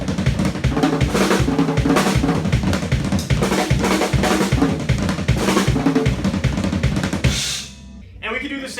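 Fast drum kit Herta rudiments with a bass drum in front of each group, played quickly into a dense, loud rolling stream of hits before stopping abruptly as a voice begins talking.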